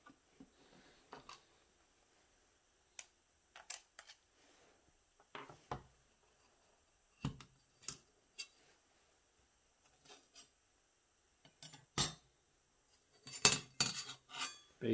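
Metal rocket stove plates clink and scrape against each other in sparse, separate knocks and rattles, fairly quiet with gaps between, ending in a quicker cluster of metallic clatter.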